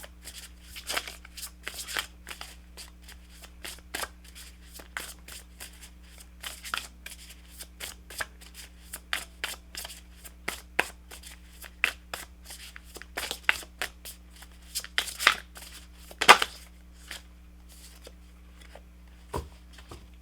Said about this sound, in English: Let me just pull you one of these cards here from this deck.